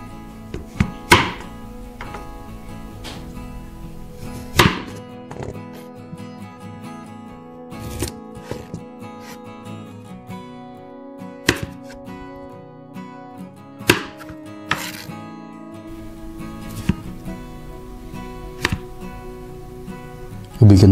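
A knife cutting vegetables into long pieces on a board for a simple chicken soup, irregular close thunks and taps spread over about twenty seconds with quiet handling noise between cuts.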